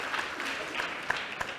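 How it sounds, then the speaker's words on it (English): Short burst of applause at an annual education congress, a dense wash of clapping with a few sharper claps standing out, fairly faint and distant, lasting under two seconds. "A round of applause to them as well."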